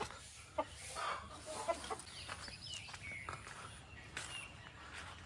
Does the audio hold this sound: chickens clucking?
yes